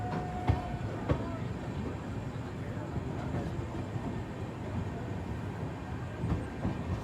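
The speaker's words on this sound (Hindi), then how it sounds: "निकल चुकी है लक्सर से अपनी ट्रेन" A passenger train pulls out of Laksar junction, a steady low rumble of rolling wagons with faint rhythmic clicks and a couple of sharp knocks, heard from on board and fairly close.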